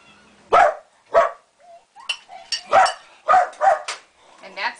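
A dog barks in a kitchen in short sharp yaps, about eight barks in uneven bursts, close and fairly loud with no talk over them.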